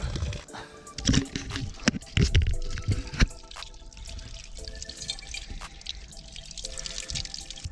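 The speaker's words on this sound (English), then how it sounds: "is this fresh spring right here" Fresh spring water trickles and drips near Nine Ladies Stone Circle, a steady close splashing with a few louder spurts early on, running alone without talk.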